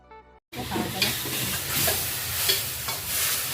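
Holy basil (pad kaprao) being stir-fried in a pan: after a short quiet start, a loud, steady sizzle sets in, with scraping stirs of the spatula at irregular intervals and no talk.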